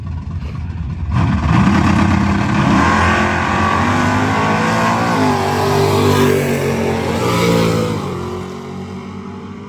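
Chevy and Dodge cars drag racing, engines roaring loudly as they rev and accelerate, a sustained near, heavy engine sound that starts abruptly after a quiet second and swells again toward the end.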